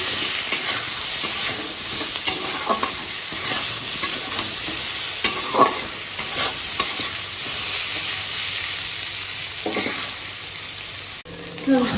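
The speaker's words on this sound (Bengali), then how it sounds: "এবার আলু বেগুনটাকে খুব ভালো করে ভেজে নেব।" Potato and eggplant pieces frying in a pan, a close continuous sizzle with repeated scraping and clattering stirs of a spatula, occasional louder knocks against the pan, and no talk.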